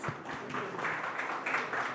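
An audience at the NDTV Food Awards applauds the culinary winners, a continuous, moderately distant wash of many hands clapping without pause over two seconds.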